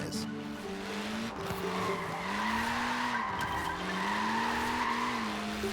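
A Mini's small tires squeal steadily as the car skids through a drift in Forza Horizon 4, a loud sustained whine over engine drone that wavers in pitch for several seconds.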